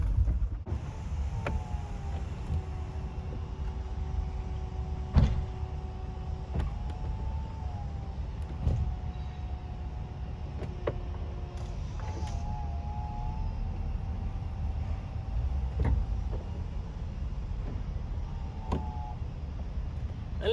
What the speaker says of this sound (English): Let's take this roof down.